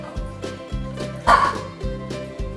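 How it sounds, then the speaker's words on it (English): A dog gives a series of short barks and yips indoors, repeated in a steady rhythm, close and fairly loud, with no clear talk over it. "He's gonna bark."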